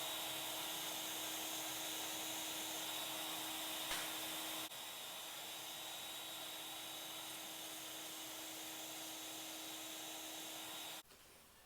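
A router bit spins in a router table, hollowing a ring from pine wood, giving a steady loud whine with a high tonal hum. It drops slightly partway through and then cuts off abruptly near the end.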